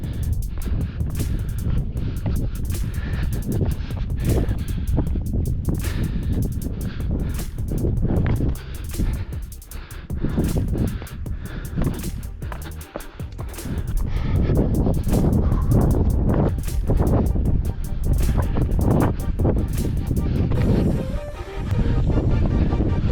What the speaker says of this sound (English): Feels good with the wind up here